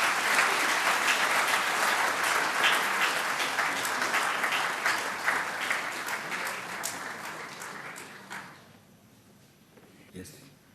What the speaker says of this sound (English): a thunderous round of applause for this.